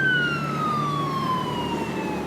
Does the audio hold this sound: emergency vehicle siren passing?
yes